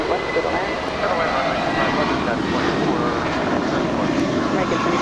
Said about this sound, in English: Here we have an absolutely beyond precious A319 going to Mexico City